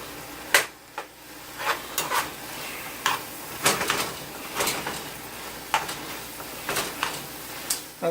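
Ramen noodles being stir-fried in a pan, with a series of sharp metallic scrapes and clanks of utensil against pan over a faint sizzle, irregular strokes roughly every half second to a second, close and without talk.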